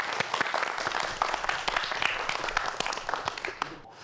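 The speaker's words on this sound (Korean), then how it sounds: "강연 박수로 청해 보도록 하겠습니다" A lecture audience applauds steadily for about three and a half seconds to welcome a professor speaking on science in architecture and traditional hanok houses, dense clapping that thins out at the end.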